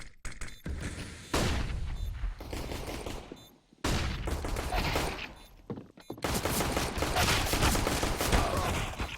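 Gunfire from CS:GO comes in several bursts of rapid automatic shots with short gaps between them. The shots are loud and close, and the last burst is the longest.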